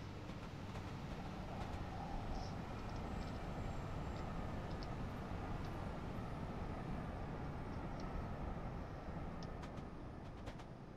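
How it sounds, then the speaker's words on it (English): An inbound train rolls past in the Train Simulator game, a steady continuous low rumble of wheels and engine holding at an even level, with faint higher clicks and squeals above it and no voices. "But there goes an inbound train."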